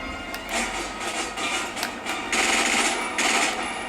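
Weapon fire in the video game 007 Quantum of Solace: rapid, dense bursts of shots over a busy game background, with louder sustained volleys near the end.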